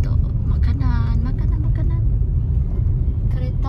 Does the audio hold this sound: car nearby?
yes